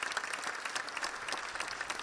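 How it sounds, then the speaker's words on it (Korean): Spectators applaud warmly after a ballet performance, a dense, continuous wash of many hands clapping at even loudness with no voices. "열렬한 박수갈채를 보냈습니다."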